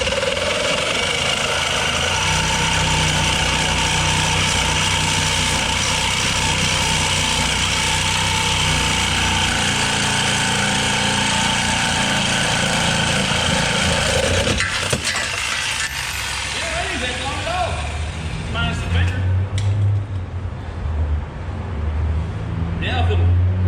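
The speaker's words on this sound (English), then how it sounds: "So we're gonna have to take the sawzall and cut it off" Sawzall reciprocating saw cutting off a bolt on a Jeep XJ during a lift install, a loud, close, continuous mechanical buzz and rattle that roughens and breaks up toward the end, with voices under it.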